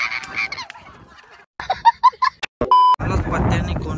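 A rooster on a farmhouse squawks in loud, rapid bursts while being chased and caught, with people shouting and talking nearby and a rough, noisy scuffle at the end.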